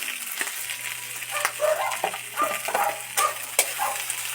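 Kangkong added to onions stir-frying in a pan for adobong kangkong, a light sizzle with quick scraping and tapping of a utensil against the pan in short bursts, close up and without talk.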